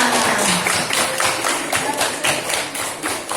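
A classroom of pupils clapping together in applause, a dense, steady patter of many hands with rhythmic pulses, fairly loud and close, with some voices mixed in.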